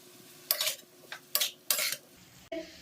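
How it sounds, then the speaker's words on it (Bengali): Fried cauliflower being stirred into a spiced mixture in a pan for cauliflower samosa filling: several sharp scraping, clattering stirs in short bursts, close and fairly loud, with no voices. "এখন আমি এটার সাথে ফুলকপিটা ভেজে রেখেছিলাম সেটা মিক্স করে দেবো"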